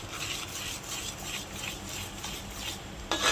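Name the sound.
stirring besan into sugar syrup for Mysore pak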